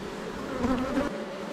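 Honey bees drone steadily around opened production beehives during an apiary visit, a close, continuous buzz with slight swells in pitch and loudness and no talking.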